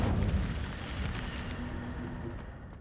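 Incendio fire spell cast in Hogwarts Legacy, a dense whooshing burst of flame that roars loud at first, then settles into a steady crackling rumble.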